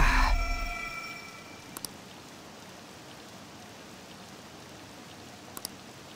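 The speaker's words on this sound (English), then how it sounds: "This rain ain't too bad." Steady light rain patters softly and continuously in the video game Persona 5 Royal, with a few faint clicks and a fading tone at the start.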